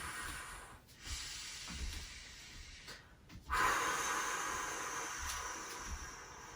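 Breathing during a glute bridge exercise, with several soft, airy inhales and exhales that are close and quiet, and a longer, stronger exhale partway through.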